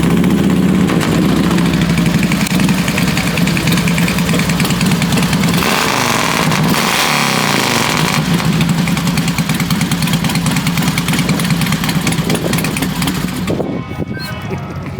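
Motorcycles idling at a birthday bash at a Harley-Davidson dealership: a loud, close, continuous rumbling engine drone that fills the whole stretch and eases slightly at the end.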